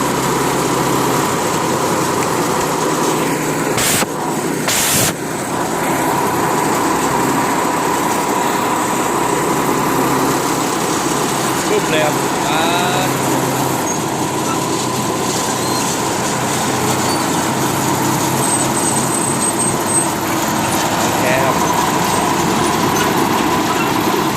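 Motorcycle engine running steadily after being started, close and loud, with a constant mechanical drone and high whine throughout and a couple of brief sharp clicks early on.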